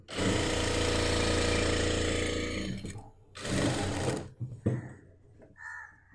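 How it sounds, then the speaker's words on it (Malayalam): A sewing machine stitches a folded one-inch hem on a churidar made from nighty cloth, a loud continuous buzzing run for about three seconds, then short bursts of stitching with gaps between. "ഇനി നമുക്ക് അടിഭാഗം മടക്കിയടിക്കാം"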